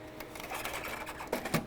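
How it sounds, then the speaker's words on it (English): An Epson ColorWorks CW-C6000 label printer grabs and loads label media, giving close mechanical whirring with a few sharper clicks and feed sounds toward the end. "It will grab the media and take it and load it"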